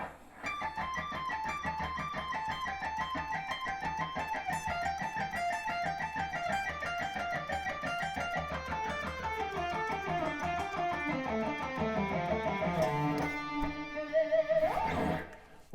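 An electric guitar plays a fast, evenly picked pentatonic lick, a run of quick repeated notes stepping down in pitch, clean and clear with no voices, ending in a few held notes.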